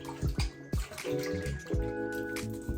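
Tap water runs and splashes over a pork shoulder being rinsed in a sink, with irregular drips and gurgles close by and no talking.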